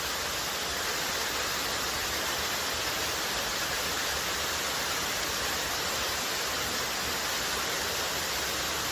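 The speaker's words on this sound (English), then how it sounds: "It's just a beautiful waterfall. Yeah, it cascades all the way down." A waterfall cascades all the way down beside a trail near Timberline Lodge on the Pacific Crest Trail, producing a steady, even hiss of rushing water that never changes over the whole stretch.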